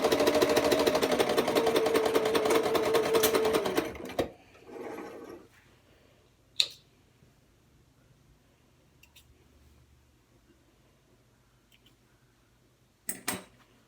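A sewing machine back stitching a circle skirt waistband seam whirs steadily and close for about four seconds, then stops, followed by quiet handling clicks and a few sharp taps.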